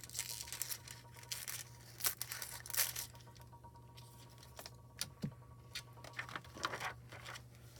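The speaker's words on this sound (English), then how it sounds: "I'm going to cut off a little bit of this extra we don't need." Scissors cutting excess foil from a card, producing crisp snips and crinkling rustles in irregular bursts, close and faint.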